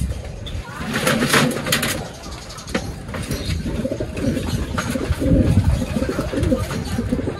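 Racing pigeons, both hens and cocks, coo continuously and close by in a loud loft chorus, with wingbeats and scuffling among them.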